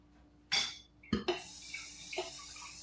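A French press being rinsed at a sink: a burst of running tap water, then a couple of clinks and splashes of the glass carafe, with water flowing steadily throughout, close and fairly loud.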